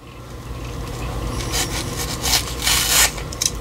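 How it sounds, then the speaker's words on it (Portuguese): A sharp blade slicing a thin layer off a magic eraser sponge gives close, raspy scraping strokes that grow louder in short bursts toward the end. "Você pega aqui esponjinha mágica, uma lâmina bem afiada, tá? E você vai tirar uma lâmina aqui"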